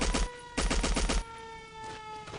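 Two bursts of rapid automatic gunfire from an APC gun in the Battlefield 1942 video game, loud and close, followed by quieter background battle noise with a faint whine.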